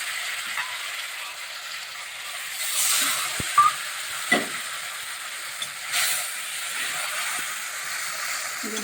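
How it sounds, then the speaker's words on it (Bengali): Spice paste sizzling and hissing in a pan for a traditional taro-stem curry as a little water is added, with soft scrapes of stirring and a couple of brief louder spits, steady and close. "মশলাটা ভালো করে কষিয়ে নিচ্ছি।"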